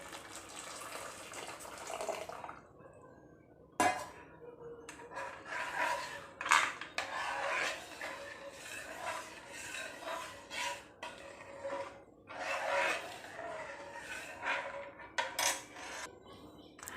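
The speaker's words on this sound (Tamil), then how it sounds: "இப்போ வெல்லத்தோட தண்ணியை நம்ம மிக்ஸ் பண்ணிக்கலாம்." Jaggery water being stirred into semiya payasam in a pot, with close, irregular liquid sloshing and light scraping clinks of a spoon against the vessel, continuing steadily without any talk.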